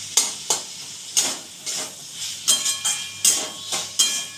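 Two green chillies dropped into a hot pan for a cucumber curry, producing repeated short bursts of sizzling and hissing, like stirring strokes, at close range with quiet gaps between them.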